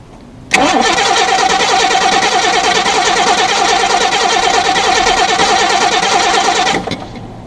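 A car engine cranks continuously for about six seconds with a rapid, even churning rhythm, loud and close, then stops without firing into an idle.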